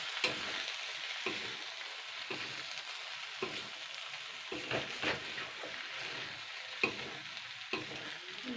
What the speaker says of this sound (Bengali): এবার ডিমটা দেবে কষিয়ে নেবো।